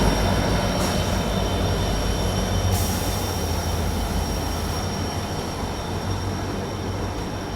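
A passenger train pulled by a WDP 4D diesel locomotive arrives at a New Guwahati platform during the monsoon, giving a loud, continuous rumble of rolling wagons with faint high wheel squeal throughout.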